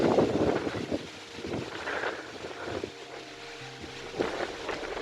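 Steady outdoor wind rushes by the sea under a stormy sky, with gusty swells and microphone buffeting; no one speaks.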